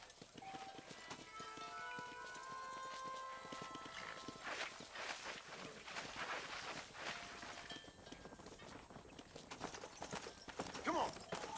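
Horse hooves clip-clop in a steady trotting rhythm while cattle are herded in the video game Red Dead Redemption, close and continuous under faint ambient game sounds and occasional voices.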